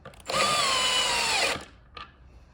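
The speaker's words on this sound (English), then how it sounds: "I'm going to use the power of the drill or a T-tool to pull the thing together" A power drill spins up to tighten a nut on a surf and rail adapter bushing, giving one steady, loud whine of about a second that winds down, followed by a brief click.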